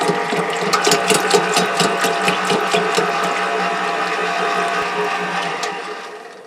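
An electric mixer works challah dough with olive oil, salt and sugar, a loud steady mechanical whir with a ticking rattle, running continuously and tapering off at the end.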